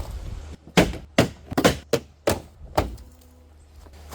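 Plastic clips on a BMW G31 side skirt pop loose as the panel is pried off, a string of about seven sharp, close snaps and thunks at irregular intervals with quiet pauses between.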